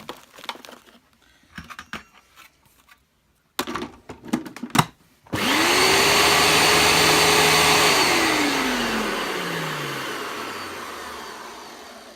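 A Hoover Turbopower 2 U2107 vacuum cleaner starts after a few handling clicks and knocks, then runs with a loud, steady whine that slowly falls in pitch as the motor winds down.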